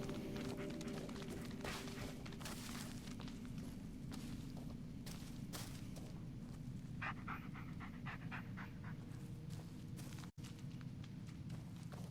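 In the horror video game Blair Witch, a dog pants quickly and runs with pattering footsteps, a faint continuous rhythmic breathing under soft movement noises.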